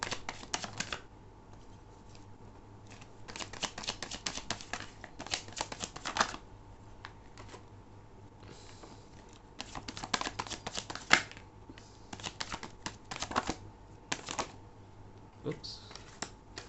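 Tarot cards shuffled and drawn in a love reading, giving bursts of quick riffling clicks and snaps in several rounds with quieter handling between, close and fairly soft.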